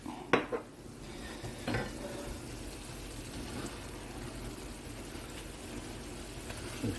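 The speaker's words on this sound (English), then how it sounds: "Let's give that a quick stir" Ground meat browning in a pan for a cheeseburger pie is stirred with a utensil, giving a couple of distinct scraping clanks against the pan over a soft, steady background sizzle.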